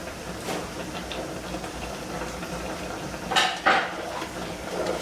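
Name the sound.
cranberries popping while cooking in a pan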